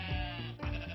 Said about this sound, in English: There are so many sheep on the farm.